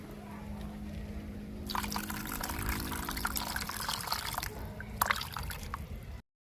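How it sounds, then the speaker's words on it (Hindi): Water is poured into a bowl of besan and yogurt mixture for kadhi, making a steady splashing trickle for several seconds with a few louder splashes near the end, close by and with no talk. "देखें, अब हम इसमें डाल लेंगे पानी।"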